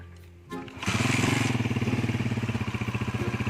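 A motorcycle engine close by roars up loudly after a brief clatter, then settles into a fast, rhythmic chugging putter that continues steadily.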